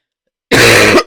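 A single harsh cough from a lingering illness, loud and close, lasting about half a second after silence.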